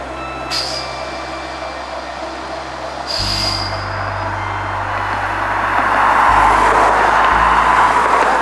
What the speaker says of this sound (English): that slug set that we had originally seen starts reversing back towards the yard